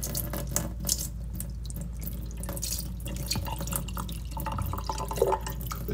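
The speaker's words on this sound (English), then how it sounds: "I'm gonna run all this brine shrimp through the shrimp net" Water full of hatched brine shrimp is poured through a fine shrimp net, a steady close splashing and trickling stream with a few drips near the end.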